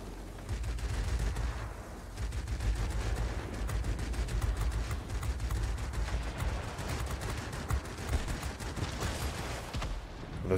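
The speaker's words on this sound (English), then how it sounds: "Those 20mm guns get hot real quick." Long, steady streams of 20mm aircraft cannon fire in World of Warplanes, rapid evenly spaced shots rattling on for several seconds with brief pauses, moderately quiet overall.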